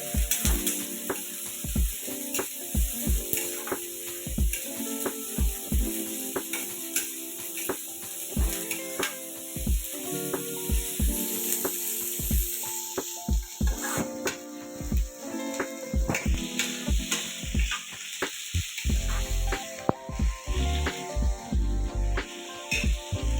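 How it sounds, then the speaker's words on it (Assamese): Shredded cabbage sizzles and crackles in a hot pan while being fried for restaurant-style chowmein, with steady frying hiss broken by frequent sharp clatters of a spatula stirring against the pan, close and fairly loud, no talking. "বন্ধাকবিখিনি এনেকৈ মই ভাজি লৈছোঁ।"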